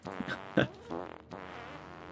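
Puffer machines in the AngelBobs-modded Factorio game give off short, sputtering fart-like blasts, a few brassy bursts in quick succession heard close and fairly loud.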